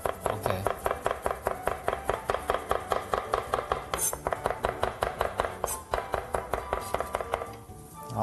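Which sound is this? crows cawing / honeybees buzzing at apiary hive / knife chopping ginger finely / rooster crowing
knife chopping ginger finely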